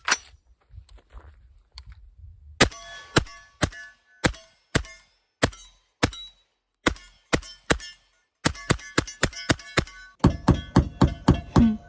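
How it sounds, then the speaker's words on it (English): Suppressed 300 Blackout rifle firing subsonic rounds, a long string of sharp, evenly spaced cracks that speed up into a rapid close burst near the end, each shot crisp and dry against a quiet outdoor background. "Love shooting 300 blackout subs."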